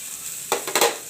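Sliced yellow and green capsicum strips are stir-fried in a pan, with a steady sizzle behind two or three quick stirring scrapes close by and no voices.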